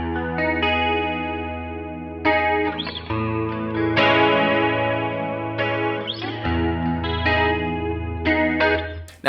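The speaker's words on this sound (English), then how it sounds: "next up is the 70s chorus" Electric guitar through a 70s-style chorus effect on a Line 6 HX Stomp, strummed chords and picked notes shimmering with a wavering, doubled tone, played alone and upfront for several seconds.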